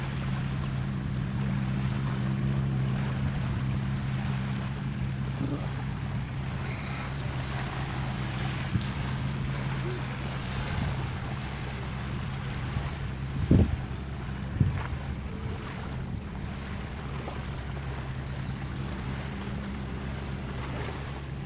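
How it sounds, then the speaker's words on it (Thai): Boats motor around Cat Island (Ko Maeo) off Songkhla, Thailand, a low, steady engine drone under constant wind and open-water noise, with a couple of brief thumps partway through and no voices. "รอบเกาะแมวมีเรือหลายลำนะคะเพื่อนๆ"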